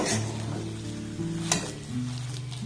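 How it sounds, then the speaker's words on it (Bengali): A bread mixture is stir-fried in a pan over a low-to-medium gas flame, giving a gentle, quiet sizzle with an occasional sharp scrape of the spatula and faint tones in the background. "গ্যাসের ফ্লেমটাকে লো টু মিডিয়াম রেখে এইভাবে এটাকে আমি একটু কষে নেব"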